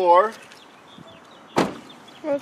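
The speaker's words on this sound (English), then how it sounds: "Go ahead and shut the door." A single solid Ford Edge car door thud lands midway, close by, between brief bits of talk at the start and end.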